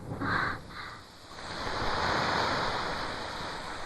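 Steady broadband hiss of rain, loud and continuous, with a slight dip early on before settling into an even, enveloping downpour.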